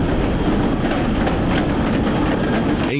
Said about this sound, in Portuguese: E então o trem partiu.